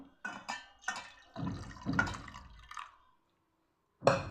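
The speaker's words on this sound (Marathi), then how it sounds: "इकडे मी पुरण शिजून घेतलेल्या भांड्यामध्येच पाणी टाकून असं धुवून हे भांड्याचं पाणी या पाण्यामध्ये टाकणार आहे" Water is poured into a cooking pot used for cooking puran to rinse it, giving several short splashing, sloshing bursts close by, then a pause and one final splash.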